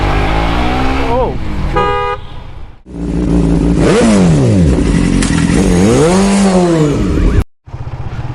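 A Suzuki GSX-R motorcycle, freshly serviced, revs hard up close, its engine pitch swooping up and down through several loud throttle blips, with a brief horn-like toot early on and a short cutout near the end.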